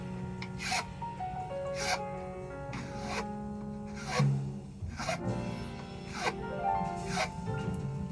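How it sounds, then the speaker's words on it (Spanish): Rhythmic rasping strokes of a file or sandpaper worked along the outside of a bamboo quena flute, about nine regular scrapes, close and moderately quiet. "para nosotros empezar a limar o lijar por la parte fuera o exterior del bambú"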